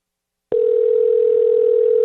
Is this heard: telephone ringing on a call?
yes